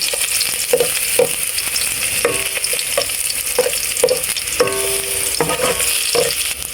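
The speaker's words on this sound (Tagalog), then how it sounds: "Ayan po't magigisa na po si Tito Deo ng bawang" Garlic sautés in a pan for pancit miki soup. A spatula clinks and scrapes rhythmically against the metal over a continuous frying sizzle, close and fairly loud.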